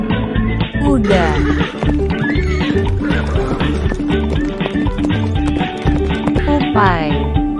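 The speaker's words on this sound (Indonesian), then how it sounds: "Kuda." A horse whinnies loudly at the start and again near the end, with steady clip-clop of hooves and loud, busy layered sound throughout.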